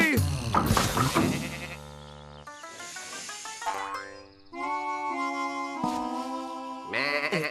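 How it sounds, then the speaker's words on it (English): Cartoon sheep bleating in a children's tractor show, wavering voiced cries among bright cartoon sound effects and music, loud and close. "It's a sheep."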